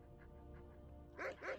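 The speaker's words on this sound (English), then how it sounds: "Oh, doggies!" Dogs bark in the video game Alicia the Punchcat. Two quick barks close together come near the end, after a quiet stretch of low music or background hum.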